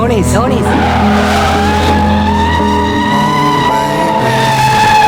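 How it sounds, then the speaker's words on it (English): A 2020 Chevrolet Corvette C8 spins donuts, its tires squealing and skidding loudly and continuously under a steady engine drone, with voices talking over the noise. "Turns out you can do donuts in the C8."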